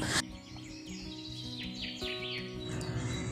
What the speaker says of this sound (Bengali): এদিক ওদিক পাখি ডাকছে